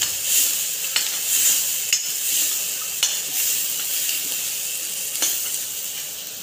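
Ground coconut masala paste with chana dal and dry spices frying in oil, stirred in a pot for an egg curry: a continuous hissing sizzle broken by sharp spoon-on-pan knocks at irregular intervals, with nobody speaking.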